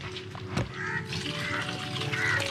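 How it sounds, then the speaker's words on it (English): Water gushes out of a tube connected to a tank through an opened valve, a steady splashing flow close by with no voices. "Water is flowing out."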